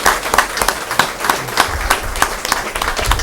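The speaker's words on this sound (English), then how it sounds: "How about a round of applause?" Applause from the audience at a school board meeting honoring an elementary school student, steady clapping from many hands filling the room, loud and sustained for about three seconds with no talk over it.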